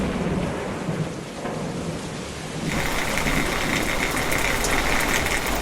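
Heavy rain pours relentlessly onto surfaces in the Chernobyl dead zone as a thunderstorm rumbles, a dense, loud wash of downpour with low thunder rolling underneath, growing heavier partway through, no voices.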